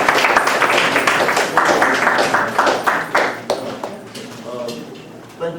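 An audience at a talk on repatriation and citizenship in Ghana applauds Dr Maulana with a burst of hand claps that swells and then fades, while a voice speaks over it.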